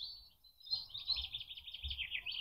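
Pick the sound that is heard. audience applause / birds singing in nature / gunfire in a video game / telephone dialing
birds singing in nature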